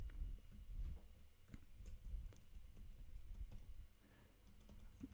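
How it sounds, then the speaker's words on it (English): Keys on a computer keyboard click quickly and softly in an irregular run of taps as shortcuts are entered during spreadsheet work, close and fairly quiet, with no talking. "Hold down the shift key and the left arrow, then Control C on the keyboard"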